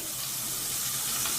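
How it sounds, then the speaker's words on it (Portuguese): Potatoes hitting a pan of hot margarine, giving a steady broad hiss and sizzle of frying that holds constant throughout, close and fairly loud. "Vou acrescentar as batatas."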